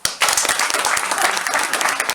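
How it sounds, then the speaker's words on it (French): Dense, lively applause from a Rummikub club gathering for its president, bursting in abruptly after a brief pause and holding at a steady, close roar of many clapping hands. "Je voudrais maintenant que vous applaudissiez notre président John Verfaille."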